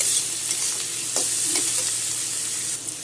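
Steady sizzling of okra frying in a hot pan, with a couple of brief scraping stirs partway through; no voices.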